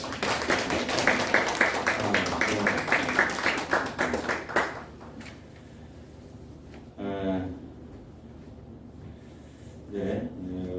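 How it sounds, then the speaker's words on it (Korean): A church congregation at a Sunday morning service claps in encouragement for a returning deaconess, a loud rhythmic burst of clapping that dies away after about five seconds, followed by brief speech. "우리 지경수 권사님 격려 박수 한번 해드려야 됩니다"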